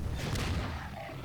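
An RPG rocket launcher explosion in a video game, a loud booming blast with a low rumbling tail that fades over about a second.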